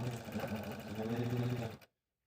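A sewing machine stitches squirrel hand and background fabric pieces together, a close, steady buzzing run of under two seconds that cuts off abruptly into silence.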